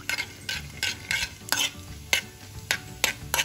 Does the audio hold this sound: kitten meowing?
no